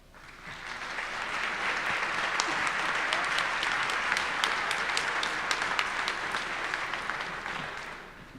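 Sustained audience applause at a DePauw University alumni reunion convocation greets university president Mark McCoy: dense, even clapping from a large room that swells quickly, holds steady for several seconds, then tapers off, with no speech over it.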